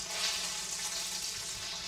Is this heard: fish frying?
yes